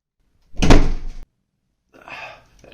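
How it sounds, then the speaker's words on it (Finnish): A consultation room door swings shut with a solid thunk, followed by a softer second knock or latch sound a moment later. "Oisko ton vastaanottohuoneen oven muuten voinut vielä sulkea?"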